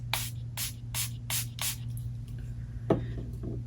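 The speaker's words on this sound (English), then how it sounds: "I'm going to use the Milani Make It Last setting spray. And I'm basically just going to spray this" Milani Make It Last setting spray misted onto a makeup brush in five quick, evenly spaced hissing pumps, close and crisp, followed by a brief wet squish and tapping as the bristles are handled.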